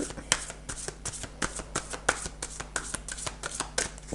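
Tarot cards being shuffled by hand close up, a rapid series of crisp riffling flicks and soft slaps in an irregular rhythm, with a voice talking quietly underneath.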